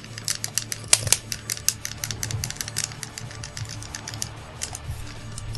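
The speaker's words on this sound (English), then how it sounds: "Apologies for all clicking noises, by the way. It's the world's loudest controllers." Rapid, uneven clicking of GameCube controller buttons during a wrestling game, sharp plastic taps in quick bursts, close and fairly loud, with no talk.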